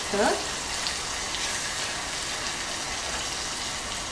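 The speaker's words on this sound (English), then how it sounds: "we'll be adding in the rice to toast along with the ingredients" Rice toasting with salt, sugar and other ingredients in a claypot for vegetarian claypot mushroom rice, a continuous close sizzle with a brief scrape of stirring at the start, steady and even to the end.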